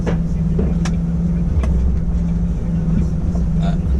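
A heavy six-wheel, three-axle lorry passes on the road, its low engine drone steady and continuous, with a voice talking over the traffic noise.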